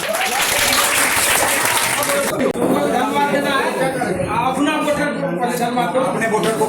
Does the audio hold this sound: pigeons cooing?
no